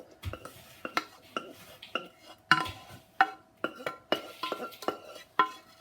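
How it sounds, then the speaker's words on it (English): Apple and plum mixture spooned into a Pyrex dish, a run of sharp scraping clinks and soft wet plops of a spoon against glass, repeating in an uneven rhythm, close and clear. "I'm just going to spoon the apple and plums into the Pyrex dish"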